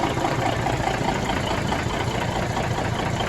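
A 1981 Peterbilt 359 diesel truck engine idling after a rebuild, with a steady, rough knocking rumble, close and fairly loud, no voices.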